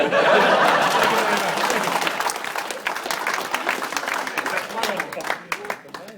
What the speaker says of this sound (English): if you do see me do something you can't do, you bloody clap